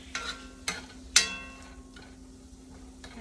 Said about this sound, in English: you're just going to cook this now until you kind of smell the garlic coming up off the pan